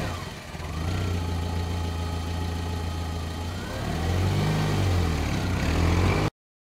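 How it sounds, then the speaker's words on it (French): A car engine idles with a steady low hum that is moderately quiet, then rises in a brief rev partway through before settling again. The sound stops suddenly near the end and there is no talking. "la voiture."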